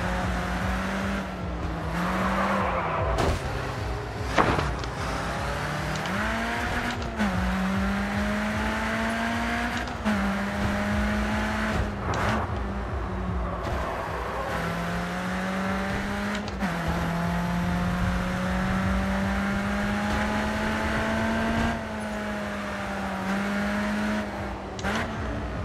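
Racing car engine in a video game roars steadily throughout, its pitch climbing and dropping with gear shifts and throttle changes, loud and continuous with brief tyre scrubs and no talk over it.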